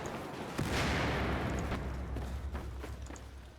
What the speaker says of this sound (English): you hear a lot of explosions, meaning that a lot of these buildings are being taken down here